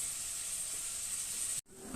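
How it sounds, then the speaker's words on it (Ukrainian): Carrots and onions frying in a pan for Ukrainian plov give a loud, steady sizzle that runs almost without a break, then cuts out briefly before resuming near the end. "Морква цибуля у нас обсмажилась."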